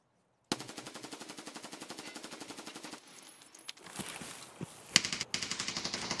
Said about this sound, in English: I swear I heard gun noise over here too